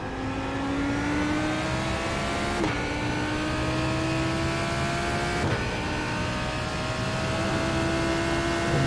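Lamborghini Huracan GT3 EVO racing engine at Mugello in iRacing, loud and close, revving steadily upward with two sharp gear-shift dips before climbing again under sustained throttle.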